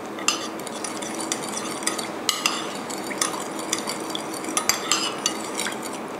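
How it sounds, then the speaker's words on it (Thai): A utensil stirs sugar, vinegar and boiled water together in a bowl, making close, continuous scraping and clinking against the dish with irregular sharp taps, alone without any talking. "ตามด้วยน้ำตาลทรายค่ะน้ำส้มสายชูนะคะและน้ำต้มสุกค่ะคนทุกอย่างให้เข้ากันนะคะ"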